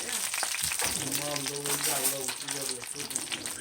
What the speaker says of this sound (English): So see how that fries up?